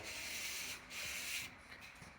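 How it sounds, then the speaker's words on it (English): Coarse primer on new car fenders being lightly sanded makes close, dry rasping strokes in a steady back-and-forth rhythm with brief pauses between passes, alone and fairly quiet. "I'm going to go ahead and lightly sand all this primer down now because it's kind of coarse"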